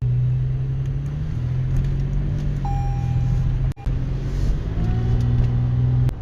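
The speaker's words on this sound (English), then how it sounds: "the supercharger doesn't necessarily whine, you know, like our TRX does or anything, but you can just tell it gives that 4Runner just the power that it needs" Supercharged 2023 Toyota 4Runner TRD Pro with a lift kit and Mickey Thompson Baja Boss tyres, accelerating with a steady close-up engine drone that rises in pitch through the gears, with a brief drop in between, no talking.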